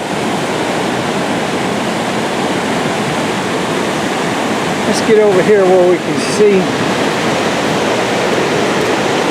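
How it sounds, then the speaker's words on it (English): Floodwater roars steadily over the mill dam at the Ozark Mill, the river two feet up, a loud continuous rush heard close by while a person speaks briefly over it. "After it goes over the dam, it just starts turning."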